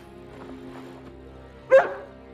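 After faint murmuring, one sharp dubbed bark from the dog in the comedy film Kung Pow rings out, brief and prominent against a low background.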